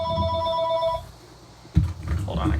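A telephone rings with a steady electronic tone for about a second at the start, then stops. A sharp clunk follows, likely the handset being picked up, and low room noise and handling sounds continue after it.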